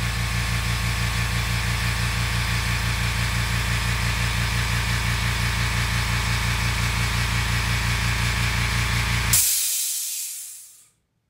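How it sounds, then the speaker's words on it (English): An air compressor runs in a workshop where a crackle finish is being painted on a bass guitar; it hums steadily and loudly, then cuts off near the end and fades into quiet. "Sorry about that compressor. Kicked on."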